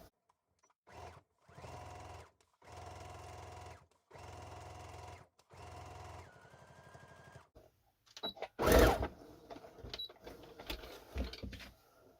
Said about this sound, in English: I'm going to put it through my machine and top stitch it